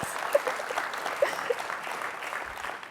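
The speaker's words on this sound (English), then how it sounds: "would we like to give a round of applause?" Audience applause fills a hall at a service members' event, an even patter of many hands clapping steadily at moderate distance.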